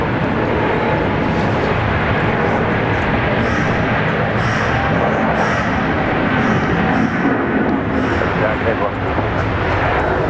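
United Airlines flight 97 airliner departs Brisbane International Airport with a dense, continuous engine roar that stays loud and steady, while a voice talks over it.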